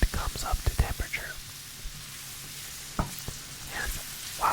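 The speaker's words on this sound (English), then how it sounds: "while that is sizzling away" Aromatics sizzle in olive oil in a hot stainless steel pan for risotto, a soft crackling hiss with scattered pops and stirring clicks, quiet and close with faint breathy whispering at times.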